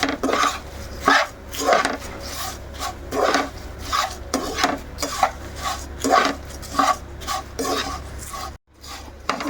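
Flattened rice (poha) mixture is stirred and tossed in a pan, giving loud, close rhythmic scraping and rustling strokes of a spoon against the metal, repeated throughout with brief clinks.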